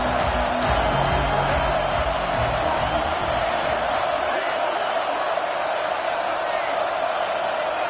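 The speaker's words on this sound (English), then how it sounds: "This crowd ready to make its presence known." A steady, dense roar from a football stadium crowd holds at a constant level throughout, loud and unbroken, with a commentator's voice faintly mixed in.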